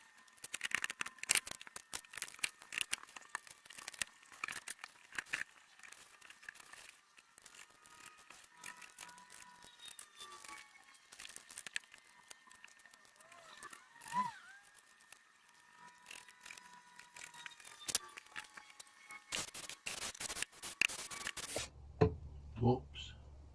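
Carpet being cut and trimmed inside a Talbot Express Highlander cab, with close scraping, rubbing and crinkling sounds running irregularly through most of the stretch and brief louder handling noises near the end.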